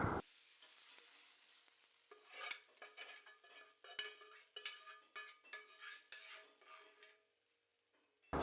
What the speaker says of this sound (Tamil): நம்ம வெட்டி வச்சுருக்க தக்காளியை அதில் போட்டு நல்லா வதக்கிக்கலாம்.